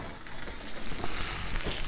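Steaks sizzling in a pan, a continuous loud hiss and crackle of frying fat with no talk.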